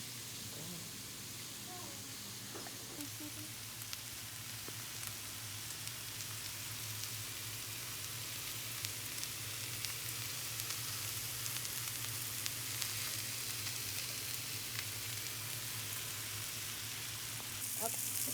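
Thick-cut pork chops searing in a skillet give a constant, soft, hissing sizzle that runs evenly throughout without breaks.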